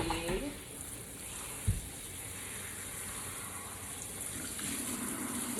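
Water runs steadily from a tap while shampoo is rinsed out of a wig, a continuous close gush with a brief knock partway through and no talk.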